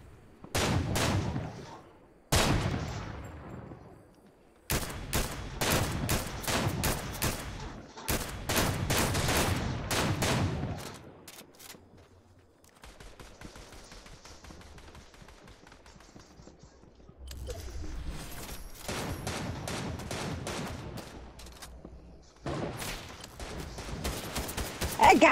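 Gunfire in Fortnite Chapter 3 Season 3 rattles out in loud rapid bursts of shots separated by brief pauses, with a quieter, steadier stretch midway before more volleys resume.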